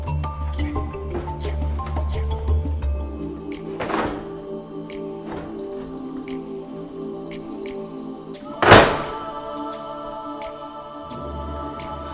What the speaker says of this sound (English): at this time we're going to put the door back on.